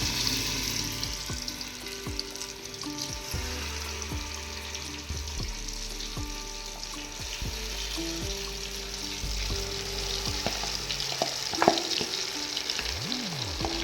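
Hot oil and ghee sizzle steadily in a pan while making halwa puri sweets, a continuous close frying hiss broken by occasional metallic clinks and scrapes of a utensil, with no talking.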